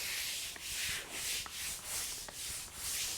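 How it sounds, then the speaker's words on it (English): A brush scrubs a concrete floor with cleaner to lift pet urine odour, making quiet rhythmic back-and-forth scratchy strokes, roughly two per second, close up with no one talking. "You just kind of give it a scrub, you agitate it"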